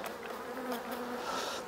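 Honeybees buzz steadily around an open hive while the queen is being marked, a dense close swarm drone with no talk over it.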